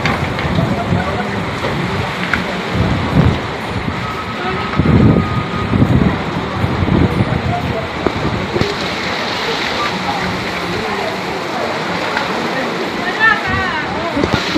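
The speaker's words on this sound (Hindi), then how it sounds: "देखिए इतना तेज बारिश आ रहा है" Heavy monsoon rain pours in a steady, dense hiss on the first day of Sawan, loud and continuous while people chatter and shout excitedly nearby as they bathe in it.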